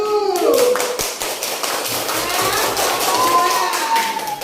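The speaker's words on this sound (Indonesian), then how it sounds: "tepuk tangan untuk kelompok 1" Schoolchildren in a classroom clap for group 1, a dense patter of many hands at close range, with children's voices calling out over the clapping at the start and then trailing under it.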